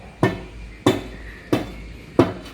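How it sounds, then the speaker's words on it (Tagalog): Four sharp pounding blows land at an even, unhurried pace, each a solid thud with a short ring, close by. "Kala ko kung ano ang pinupukpok nyo diyan eh."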